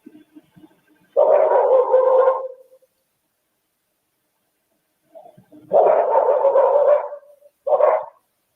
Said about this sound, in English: So the dog's been barking.